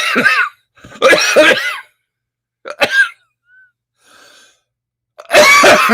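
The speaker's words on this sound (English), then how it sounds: "haven't coughed for an hour until I get on air" Several harsh coughs in separate bursts with short pauses between them, close and loud, with no talking.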